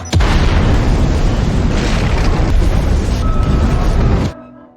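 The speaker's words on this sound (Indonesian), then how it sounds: "meledakkan seluruh bom yang sudah ditanam di berbagai sudut" Bombs planted around a building in an action film detonate in a massive, loud sustained blast with rumbling roar and debris, cutting off abruptly into a faint ringing tail.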